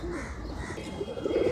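Pigeons in a pair at a Bangladeshi pigeon market coo in low, rolling calls, close and fairly loud, with a steady murmur of background noise.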